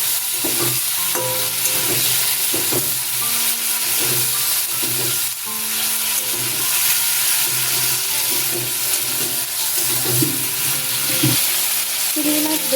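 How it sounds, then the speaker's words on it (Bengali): Prawns frying in oil in a kadai, a steady close sizzle with scattered clinks and scrapes of stirring throughout, no voices. "এবার চিংড়ি মাছগুলো ভেজে নেব"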